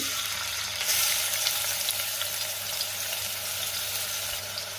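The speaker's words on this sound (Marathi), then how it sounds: "कांदा मी 1 मिनिटभर परतून घेणार आहे।" Sliced onion sizzles in a spoonful of hot oil in a cooking pot, a steady bright crackle that holds evenly throughout with no voices.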